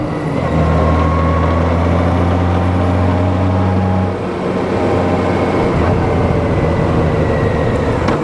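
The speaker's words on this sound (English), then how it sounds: "go up a gear, we're going up the mountain now." A Honda GoldWing motorcycle engine pulling up a mountain road on Diamondback Highway 226A in North Carolina, a loud, steady droning hum with strong wind rush that shifts pitch midway as the rider changes gear.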